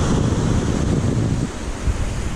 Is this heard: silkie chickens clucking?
no